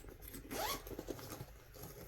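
A quiet, quick single zip as a pencil pouch zipper is pulled open, lasting about a quarter second, followed by soft fabric rustling.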